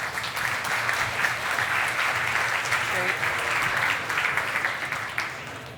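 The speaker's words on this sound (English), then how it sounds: "So please, a round of applause." Sustained applause from a conference audience after the introduction of a keynote on natural language processing and machine learning, steady and dense throughout with some voices mixed in.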